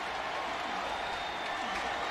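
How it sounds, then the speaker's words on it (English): A football stadium crowd cheers for the Tennessee defense in a 1998 game against Houston, a broad steady roar of many voices that holds loud the whole time. "Crowd kind of rising to the occasion now to try to help the defense a little bit right here"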